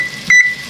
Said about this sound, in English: I do everything by a timer